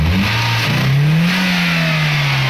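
A 2007 Toyota Xli car engine with a coil-missing, fuel-consumption fault revs up strongly, its tone rising and holding steady, loud and close with no talking.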